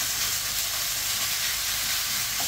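Onions, peppers and meat frying together in a pan, a loud, close, unbroken sizzle with a steady hiss and no voices.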